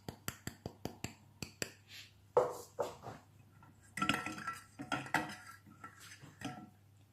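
A steel bowl set over a pan of hot water for melting chocolate, giving a quick run of sharp metallic clinks and taps followed by scattered clatter and scraping in a home kitchen.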